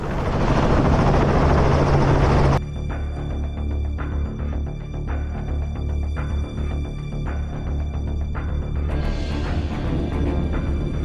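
Helicopter used for hunting wild boars in Spain, a loud close rotor roar with steady thumping blade chop that shifts partway through to a slightly different tone, continuous with no voices.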